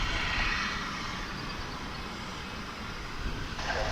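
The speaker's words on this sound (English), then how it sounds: "This A321 is headed to Phoenix." An American Airlines Airbus A321 bound for Phoenix makes the big turn on runway 18 left at Dallas/Fort Worth, a steady moderate engine rumble and hiss carrying on evenly for a few seconds.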